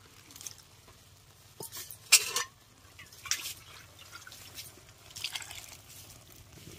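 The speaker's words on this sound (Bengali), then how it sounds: "এবার এর মধ্যে জল দেব।" Water poured into a cooking pot of ghugni (Bengali dried-pea curry) in a home kitchen, a few faint splashing and dripping bursts, soft and close, with no talking.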